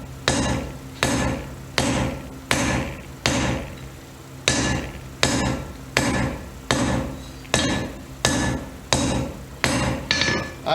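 A hammer strikes metal at an angle on a cold anvil, about fifteen evenly spaced, bright ringing blows in a steady rhythm, close and loud with no talk.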